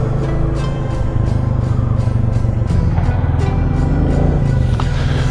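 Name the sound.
Royal Enfield Classic 350 motorcycle riding on road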